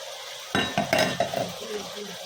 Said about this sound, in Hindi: चम्मच चला चला के भूनेंगे अच्छे से।